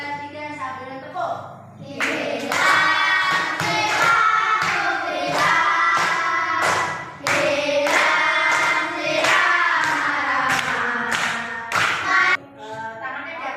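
A classroom of pupils sings a children's song while clapping along, steady rhythmic hand claps beating under the loud group singing throughout.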